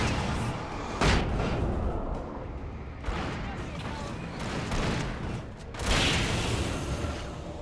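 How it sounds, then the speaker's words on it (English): Flashbang grenades detonating in the video game Alan Wake: three sharp, loud bursts spread over several seconds, each ringing out over a dense, rumbling game soundscape. "Flashbang."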